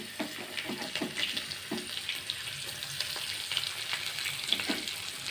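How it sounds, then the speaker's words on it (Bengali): Chopped onions fry in a pan with a nigella seed and dried chilli tempering, a soft steady sizzle with repeated light clicks and scrapes of stirring, fairly quiet and without speech. "এবার দিয়ে দিলাম পেঁয়াজ কুচি"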